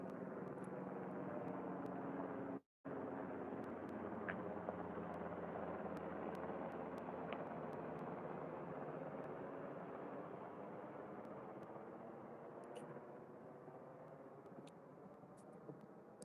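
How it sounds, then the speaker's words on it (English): A helicopter drones overhead as a steady broad rumble that holds for the whole stretch and fades slightly toward the end, heard from a street outside a house. "Helicopter can't even really see it."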